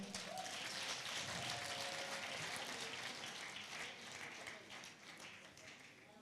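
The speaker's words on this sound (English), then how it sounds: "With a resounding clap, can we celebrate our Father?" A crowd at a coalition gathering claps in sustained, dense applause that slowly fades toward the end, heard somewhat distant and low in level, with faint voices mixed underneath.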